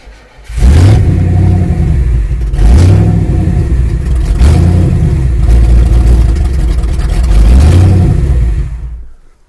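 Classic Ford station wagon engine revving in repeated bursts, about four loud rising surges of a mid-pitched engine with brief dips toward idle between them, close and steady, with no talk.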